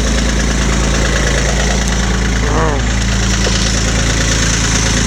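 Tractor engine running at a steady idle, loud and close, with a constant low rumble and rhythmic knocking throughout.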